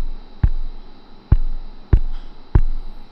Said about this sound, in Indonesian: kalian bisa dengerin tadi mic-nya udah gue pukul-pukul ya